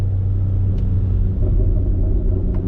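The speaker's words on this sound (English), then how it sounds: "Let me see if I can get those burbles again" A BMW X3 M with a loud aftermarket exhaust rumbles with a deep steady low burble, heavy and continuous from inside the car, with a couple of faint high ticks and no talking.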